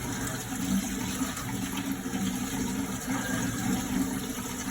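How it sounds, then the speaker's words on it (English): Hot water runs from a tap after a leak repair made with a SharkBite push-fit fitting, the lines just aired out; a steady, close, continuous rush of flowing water with low gurgling fill, no talk over it. "Yep, we got hot water running."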